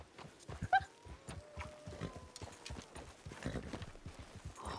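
Horse hooves clip-clop in steady rhythm in the video game Project 1920, close and fairly loud, with a few brief tonal game sounds.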